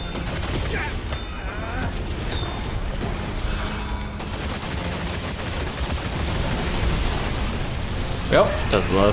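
Rapid gunfire from a shooter game, with a player firing at a boss in Remnant 2. Dense, steady shots rattle on for the whole stretch, mixed with game effects and a voice talking.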